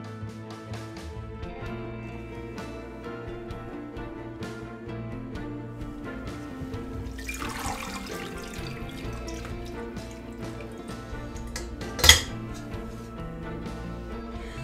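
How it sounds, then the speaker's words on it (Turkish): Slow-cooked bone marrow broth, simmered for ten hours, is strained, giving a steady running and pouring wash of liquid with a single sharp clatter near the end. "Şimdi süzmeye geçelim."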